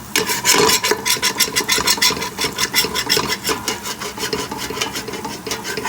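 A utensil scrapes rendered bacon bits off the bottom of a pan, a steady rasping scrape in quick rhythmic strokes, close and loud, with no talk over it.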